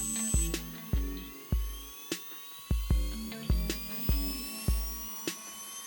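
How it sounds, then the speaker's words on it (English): Flywheel inside a Losi ProMoto MX RC motocross bike spinning up with a high electric whine that climbs steadily in pitch, while repeated sharp clicks and thumps land about every half second, close and clear. "hit a separate switch to start the flywheel, and that's what's going to make this thing really stable"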